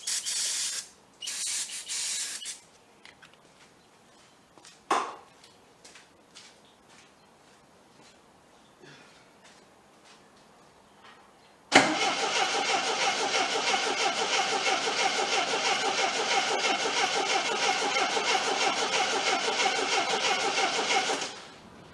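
Abandoned 1979 Triumph TR7 with spray shot into its carburetors: short hissing spray bursts and clicks first, then a sudden loud, sustained cranking of the engine that whirs on without catching.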